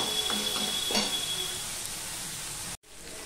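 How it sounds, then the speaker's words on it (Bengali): Grated ginger fries in a pan for dal, giving a steady close sizzle and hiss with a few faint utensil touches, broken by a brief cutout near the end. "আদাটাকে একদম পুরো লাল লাল করে ভেজে নিতে হবে।"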